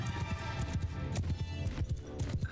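Horse archers riding in Mount & Blade II: Bannerlord, a dense, continuous clatter of many hooves at a gallop, loud and close, mixed with battle noise.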